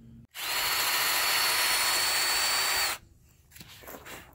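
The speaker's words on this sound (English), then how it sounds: "So I'm going to drill this next." A loud, steady power drill whines continuously for about two and a half seconds, drilling into a cracked Kohler Courage lawn tractor engine block, then cuts off, leaving quieter shop noise.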